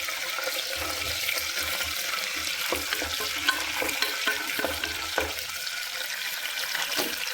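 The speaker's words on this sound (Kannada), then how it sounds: "ಚೆನ್ನಾಗಿ ಫ್ರೈ ಆಗಬೇಕು, ತಿನ್ನೋದಕ್ಕೆ ಚೆನ್ನಾಗಿರುತ್ತೆ." Green chillies frying in oil in a pan for tomato bath, a steady broad sizzle with scattered spatula scrapes and stirring knocks, close and continuous with no talking.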